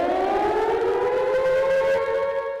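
A civil defense warning siren wails steadily and loudly, its tone slowly rising, a public alert for heavy rains and landslide risk in hillside areas.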